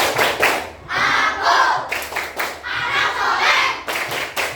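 Children clapping in rhythm during an Islamic clapping chant in a classroom, several bursts of claps mixed with shouted chanting voices.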